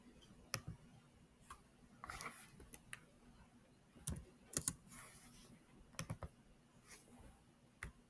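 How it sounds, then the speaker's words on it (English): Typing on a computer keyboard: scattered, irregular bursts of quiet close key clicks with pauses between them, faint and without speech. "it would be easier for me just to type it"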